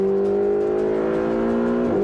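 Ferrari 488 GTB turbocharged engine from 2022 holding a loud, steady tone with layered harmonics, then shifting pitch near the end as throttle changes, heard up close with no talking.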